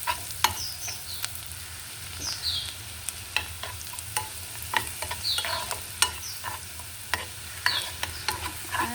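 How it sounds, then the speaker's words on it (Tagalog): Garlic fries in a pan with a steady close sizzle, broken by sharp scraping clicks as a utensil stirs it at irregular intervals. "Then, fry natin yung garlic. Fry ang garlic."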